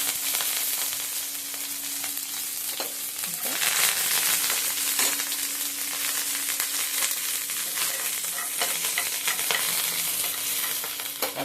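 Mustard seeds and curry leaves sizzle steadily in hot oil, a dense continuous frying hiss with small crackles and stirring scrapes, close and fairly loud with no talk.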